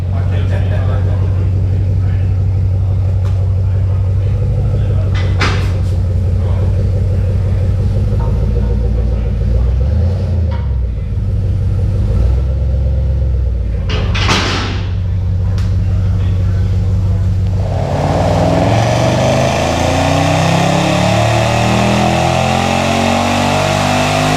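A 2016 Ford Mustang GT V8 runs loaded on a chassis dyno, a loud continuous engine roar that builds in pitch toward the end, with voices over it.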